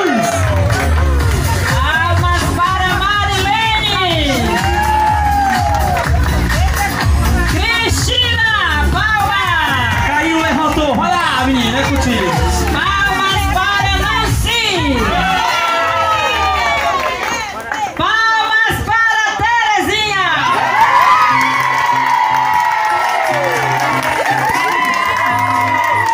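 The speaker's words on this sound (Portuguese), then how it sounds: "Com a maioria dos gritos e aplausos" An audience at a church retreat shouts, cheers and applauds loudly and continuously, with voices calling out over the crowd noise.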